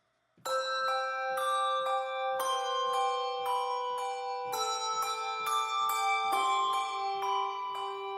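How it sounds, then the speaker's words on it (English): Sampled handbells ring out in a steady melodic sequence, each bright strike overlapping the ringing tones before it, clear and close with no voices. "They recorded some handbells for composers to play with"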